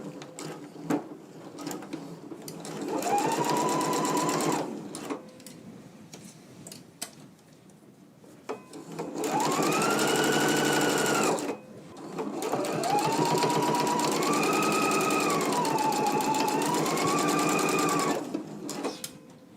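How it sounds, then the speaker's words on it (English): A sewing machine stitches the lining and bodice of a garment in three runs, each a fast steady whirring chatter of the needle that rises and falls in speed, with short quiet gaps between bursts. "I'm going to back stitch and then continue stitching."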